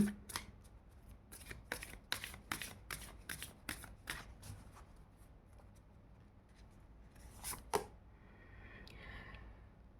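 Oracle cards are shuffled in a rapid run of crisp riffling flicks, fairly close, then a brief pause, a final louder snap and a softer rustle as the deck settles.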